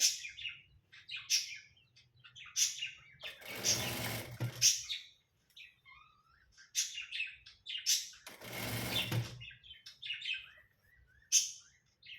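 A sewing machine stitches a blouse in two short bursts of a few seconds each, with bird chirps and tweets heard in the pauses between runs.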